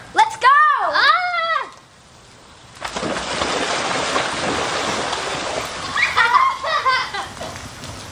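Children shriek and shout at an outdoor pool in the rain, then a burst of splashing and steady watery rush follows as they jump in, with more young voices calling out over the spray.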